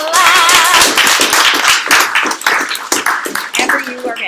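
An audience claps in a classroom, giving a dense burst of loud, close handclaps that thins into scattered claps toward the end.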